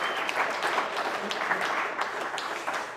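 A crowd applauds continuously, dense clapping filling the room at a steady loud level from start to finish.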